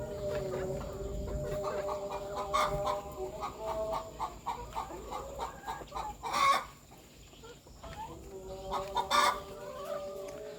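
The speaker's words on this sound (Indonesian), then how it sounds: "Kita telusuri aktivitas ayam petelur ini." Laying hens cluck steadily throughout a semi-intensive coop about 22 metres long and 2 metres wide, with overlapping calls near and farther off and a couple of louder squawks standing out.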